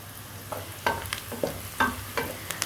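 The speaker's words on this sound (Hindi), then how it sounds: "प्याज ब्राउन करते वक्त आपको चाहिए कि चम्मच को मुसलसल चलाते रहें" Sliced onions frying in oil and browning while a spoon stirs them, a soft sizzle under sparse, quiet clinks of the spoon against the pan.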